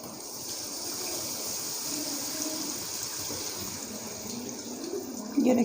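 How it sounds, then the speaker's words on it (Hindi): Five to six cups of water poured into a pot of fried chicken for chicken nihari, a steady gushing stream heard up close that ends with a brief louder splash. "तो हम इसमें ऐड करेंगे पानी"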